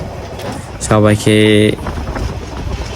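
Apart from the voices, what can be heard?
train ride from Bogura to Bonarpara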